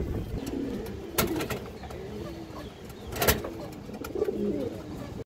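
A China Khaki female pigeon gives low, rolling coos in several soft bouts, with a few sharp clicks and knocks from handling or the cage breaking in close by.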